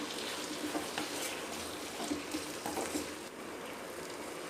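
Tomato and onion sauté with salt in a pan for a garlic curry, producing a soft, continuous sizzle with light spattering and a gentle bubbling texture, fairly quiet and with no talk.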